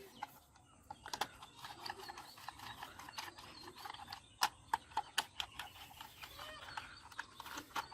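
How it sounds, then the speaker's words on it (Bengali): A screwdriver tightening screws into a battery-operated toy taxi car, giving faint, scattered clicks and ratcheting ticks that come in short irregular runs with quiet pauses, close and soft. "স্ক্রু ড্রাইভার দিয়ে এটাকে টাইট করে ফেলবো"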